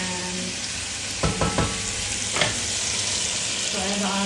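Pork browns in a pan, sautéed for a pork pochero. A continuous crackling sizzle carries throughout, broken by a few sharp clinks and scrapes of stirring near the middle.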